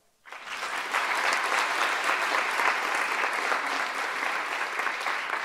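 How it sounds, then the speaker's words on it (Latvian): A crowd at a sports awards ceremony bursts into sustained applause, dense and loud, starting abruptly after a brief silence and holding steady throughout with no pauses. "Ar ļoti svinīgiem aplausiem vēlreiz labvakar."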